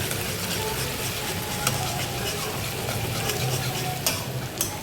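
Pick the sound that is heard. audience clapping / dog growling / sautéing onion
sautéing onion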